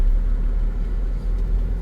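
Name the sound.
car passing on the road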